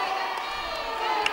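Visiting-team supporters at an indoor volleyball match cheer and shout together in a steady, dense crowd roar held at an even level throughout.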